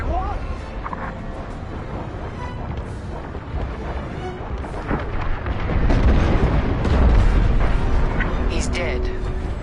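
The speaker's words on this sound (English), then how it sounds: "The frigate is about to explode." Star Wars Squadrons frigate explosion, a sustained rumbling roar of deep booms and crackling bursts that swells louder partway through, with game chatter underneath.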